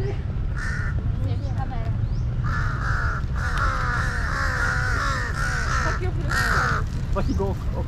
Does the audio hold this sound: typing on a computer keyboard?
no